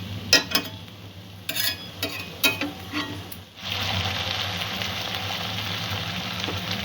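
Potatoes and vegetables frying in a pan over a medium gas flame. Several scraping stirs and clacks come first, then a steady, fairly loud sizzle takes over and holds, with no talking.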